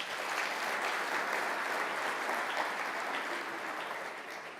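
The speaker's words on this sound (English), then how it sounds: "A round of applause for yourselves" Sustained applause from congress delegates at the closing ceremony of the World Geothermal Congress 2026, a dense, steady wash of many hands clapping at even loudness throughout, tapering slightly at the end with no voices over it.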